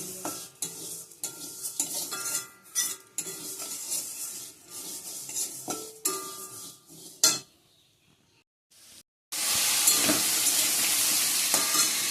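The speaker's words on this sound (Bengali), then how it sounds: "মাসকলার ডালটা একটু ভেজে নিচ্ছি" Black gram dal being dry-fried in a pan at home, with intermittent scraping and stirring strokes and a light sizzle, then a pause before a louder continuous sizzling hiss near the end.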